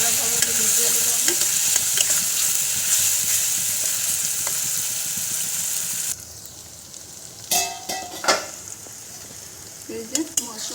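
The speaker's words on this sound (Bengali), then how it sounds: "মশলাটা দিয়ে আমি ভালো করে ভেজে নেব, ভালোভাবে ভেজে নেব আমি।" Masala spice paste fries in oil in a pan for a paneer soyabean kofta curry, giving a steady loud sizzle for about six seconds, then quieter crackling with a few stirring scrapes.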